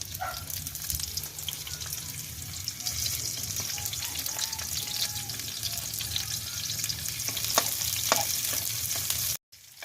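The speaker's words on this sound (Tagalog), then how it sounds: "Gisa muna tayo guys ng sibuyas, bawang," Onion, garlic and ginger sauté in a pan with a steady, even sizzle that holds for the whole stretch, accented by a few faint clicks of stirring and no talking.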